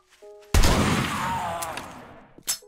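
A weapon fires at zombies in the video game 7 Days to Die: one loud close blast with a long rolling tail, then a second shorter shot at the end, no talk.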